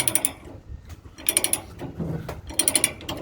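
A new ratchet strap is cranked tight over a trailer load in three quick bursts of sharp metallic clicks with brief gaps between, close and clear, with no talking.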